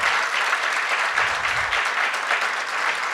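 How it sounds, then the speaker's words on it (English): A convention audience at the 2018 LULAC Florida State Convention applauds the standing candidates; dense, sustained applause fills the room evenly for about three seconds, loud and continuous with no speech over it. "And let's give them a round of applause,"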